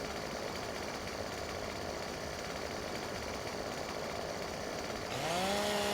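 Chainsaw cutting a tree in the Farming Simulator 2017 video game, a loud, steady buzzing drone that rises in pitch near the end as the engine revs, with no voices.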